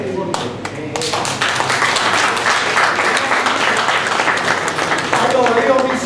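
Applause from an audience at an Italian stage event, steady and fairly loud throughout with scattered claps and a voice heard within the crowd noise.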